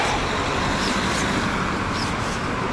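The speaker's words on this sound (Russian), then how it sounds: "Тут вообще никого, одни машины." Steady road traffic with cars passing by near a beach area in Alanya, Turkey, a continuous broadband roar with no pauses and no voices.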